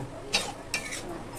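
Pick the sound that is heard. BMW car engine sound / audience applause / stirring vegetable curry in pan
stirring vegetable curry in pan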